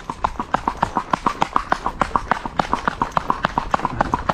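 Hooves of a running horse clip-clop in a quick, steady rhythm, each sharp strike clear and close, repeating evenly throughout.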